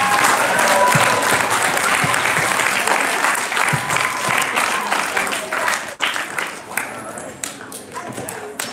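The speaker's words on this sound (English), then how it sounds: "Round of applause for Mark." Dense audience applause at a university children's science lecture in a hall, loud at first and gradually thinning into scattered claps and thumps, with voices in the room.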